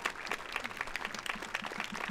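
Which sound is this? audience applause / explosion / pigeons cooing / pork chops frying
audience applause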